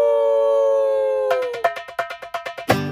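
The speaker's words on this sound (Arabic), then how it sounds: "كلب بلدي" A local street dog howls in a long sustained tone, then breaks into a run of short rhythmic yelps, loud and close.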